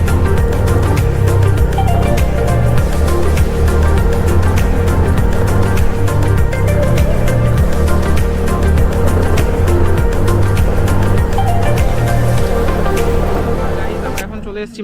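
A motorcycle rides up toward a parking area on a Kolkata-to-Purulia trip, its engine droning loud and steady close by under wind rumble, then cutting off abruptly at the end.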